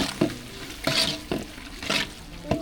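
Onions and tomatoes for chicken biryani sizzle in a pan while being stirred, with rhythmic scraping strokes about every half second over a steady frying hiss, close and clear.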